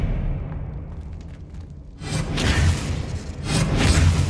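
A spell cast in Hogwarts Legacy: a quiet stretch gives way to a sudden swooshing magical burst with a thudding low boom, followed by a second surging whoosh near the end.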